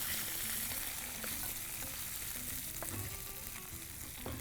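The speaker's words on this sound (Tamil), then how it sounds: "இப்போ இது நல்லா பொன்முருளாக வதங்கணும்" Onions and curry leaves fry in a pan until golden, making a dense, continuous sizzle and crackle that stays steady throughout with scattered small pops and occasional stirring, with no talk.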